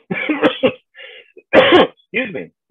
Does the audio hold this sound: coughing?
yes